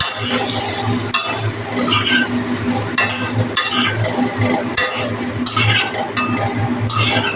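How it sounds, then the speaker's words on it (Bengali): Pieces of pointed gourd tossed into a pan of cooked-down spices and stirred, with loud repeated scrapes and clinks of a spoon against the pan over a light sizzle, close up and without speech. "মশলাটা কষাকষি হয়ে এসছে এবার পটলগুলো দিয়ে দিচ্ছি দিয়ে কষা এটাকে"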